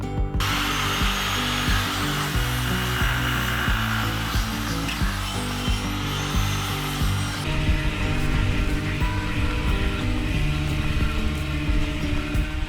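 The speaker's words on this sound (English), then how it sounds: "So just sanding this top rail here" A power sander works along a timber deck top rail, a loud, continuous motor whine with a steady buzzing tone that shifts pitch partway through.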